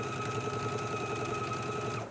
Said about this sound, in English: Let's go ahead and do 1/4 inch top stitch now.